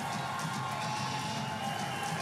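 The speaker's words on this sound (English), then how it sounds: "As this crowd is starting to come to life" Crowd at a Lingerie Football League game between Las Vegas Sin and Seattle Mist in a Seattle stadium, with a steady, diffuse roar of cheering and shouting heard from a distance.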